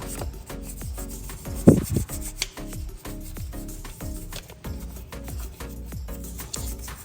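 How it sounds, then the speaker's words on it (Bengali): Brush scrubbing the tight gap around the front chain sprocket of a Honda CBR150R, heard as a close, steady run of dry rasping strokes with one louder scrape partway through and no talking. "চিপা জায়গা আপনাকে ব্রাশ দিয়ে দিয়ে ঘষে ঘষে ক্লিন করতে হবে।"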